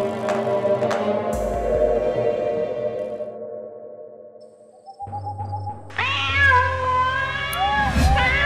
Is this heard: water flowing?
no